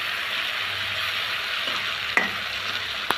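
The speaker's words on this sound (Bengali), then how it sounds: "এখন আমি পেস্টগুলো ভালো করে মিশিয়ে নিব।" Flat beans frying with green chili, mustard and nut paste, a soft continuous sizzle close by, with two sharp metallic clinks from a spoon on the pan.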